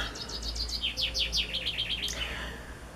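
Birdsong outdoors: bright, repeated chirps in fast descending series, fairly close and clear over faint low background rumble, with nobody speaking.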